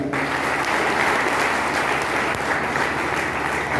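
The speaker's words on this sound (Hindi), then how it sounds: "एक बार अरुण भाई के लिए जोरदार ताली।" Loud, dense applause from an audience for Arun at a success-story talk, a steady wash of clapping that holds evenly throughout without a break.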